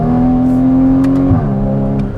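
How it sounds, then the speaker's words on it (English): Porsche 981 Cayman with factory sport exhaust and PDK gearbox in sport mode, heard from inside: a steady engine tone climbs, then drops sharply at a quick upshift and carries on at lower revs. "definitely a quicker upshift when you have it in sport mode"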